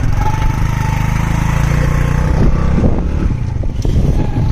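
Motorbike ride past potato fields in rural Pakistan, a steady loud engine drone blended with heavy wind rumble that continues without a break and with no talk.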